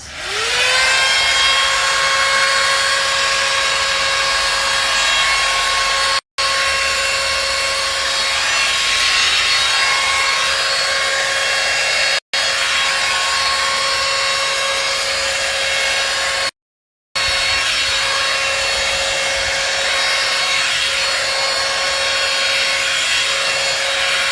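An electric hair smoothing brush with its brush attachment clipped on runs with a steady, loud motor whine and faint rubbing, close and continuous, broken by a few brief cutoffs, with no voices.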